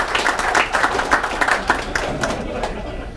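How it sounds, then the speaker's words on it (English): A dinner-meeting audience at an amateur radio gathering claps for Tim, steady close applause with distinct individual claps running the whole time and easing slightly at the end. "give a round of applause to Tim"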